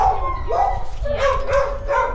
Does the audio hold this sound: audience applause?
no